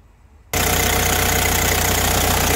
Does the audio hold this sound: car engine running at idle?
yes